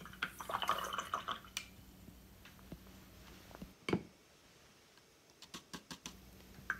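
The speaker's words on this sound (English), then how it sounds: "Here I'm just transferring some water over to my palette." Water is dabbed and dripped onto a paint palette while a wood carving is being painted, making soft, close, intermittent taps and small wet splashes with quiet gaps between them.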